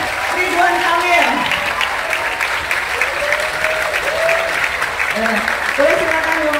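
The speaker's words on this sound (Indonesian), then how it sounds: "kasih tepuk tangan dong untuk Sandiaga Uno, Erick Thohir, Ridwan Kamil" Audience applause at a televised Indonesian talk show event for Sandiaga Uno, Erick Thohir and Ridwan Kamil, a steady broadband clapping roar lasting several seconds, with voices and cheers mixed into it.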